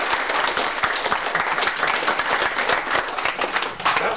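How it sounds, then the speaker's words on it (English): At a science-fiction convention fight-school demonstration, an audience gives a close, lively round of applause with sharp individual claps standing out from the crowd. "Round of applause for the people."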